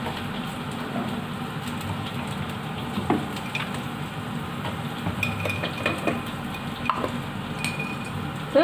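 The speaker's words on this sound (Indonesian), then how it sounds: "Tumis-tumis lagi" Continuous crackling sizzle from a hot pan as chicken liver is stir-fried, with occasional clinks of a utensil stirring, steady and close throughout.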